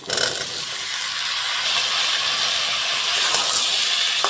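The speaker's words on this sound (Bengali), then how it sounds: "এবার হচ্ছে কেটে রাখা আলুগুলো দিয়ে দেবো।" Cut potatoes hit a hot pan for a Bengali white potato curry, bursting into a loud, broad steamy hiss that holds steady without anyone speaking.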